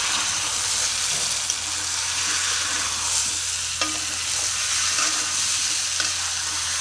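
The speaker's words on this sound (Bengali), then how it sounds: "চলো আলুটা দিয়ে দিচ্ছি, আলুটাও মনে হয় একটু বেশি লাল হয়ে এসেছে।" Potatoes fry in a spicy meat curry with a loud, continuous sizzle and bubbling, marked by a few sharp clinks and scrapes as they are stirred; nobody talks.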